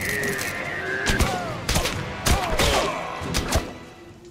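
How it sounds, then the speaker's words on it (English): Several scattered gunshots in We Happy Few, sharp broadband bangs falling irregularly across a few seconds amid game ambience, with faint voice-like tones in between. "I'm about to shoot."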